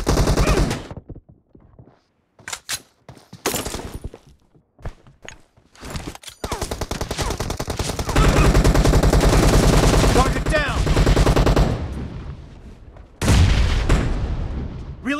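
Gunfire in a team deathmatch shooter game comes in rapid bursts and sustained automatic fire. It is sometimes broken by gaps and footsteps, with loud stretches of continuous shooting near and close.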